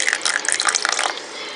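Lemon juice poured into a measuring spoon, a brief bright trickling splash that thins out toward the end, close and fairly quiet.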